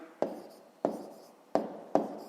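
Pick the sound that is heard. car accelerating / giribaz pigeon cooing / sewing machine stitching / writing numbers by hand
writing numbers by hand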